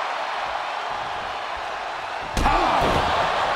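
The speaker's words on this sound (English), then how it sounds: "And a stomp to the gut" A heavy body impact lands at about 2.4 seconds, a sharp slam from a wrestling stomp in a video game match, standing out above a steady backdrop of crowd noise and commentary.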